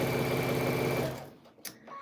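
Sewing machine stitching baby quilts runs steadily with a fast mechanical hum, then stops abruptly about halfway, leaving a quiet room with a few small clicks.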